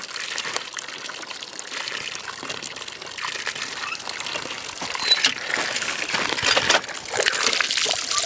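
Cold spring water gushing and splashing steadily at McBride Springs in summer, a broad close rush with sloshing surges, no talk.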